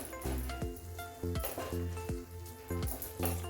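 A spoon scrapes and knocks rhythmically against a pan while a thick coconut barfi mixture is stirred continuously, clinking every half second or so over a soft sizzle, close and clear.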